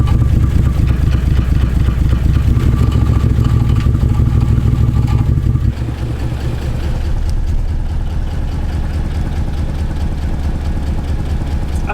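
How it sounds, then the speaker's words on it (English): A Nissan 300ZX twin turbo engine idles loud and close with a rapid, steady clatter of valve train noise, its tone dropping and roughening slightly about halfway through. "the valve train noise really doesn't sound bad"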